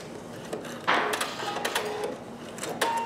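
A Pfaff Creative Vision sewing machine runs a decorative stitch pattern, giving close rapid mechanical clatter in short rhythmic bursts that sound fairly loud, without any voices.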